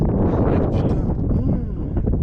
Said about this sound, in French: t'as vu le vent qu'on prend dans la gueule